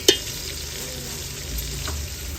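Turmeric and spices frying and being stirred in oil for beef karahi, giving a steady close sizzle, with one sharp clink near the start.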